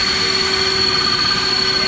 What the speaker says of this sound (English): This one is boiling extremely vigorously,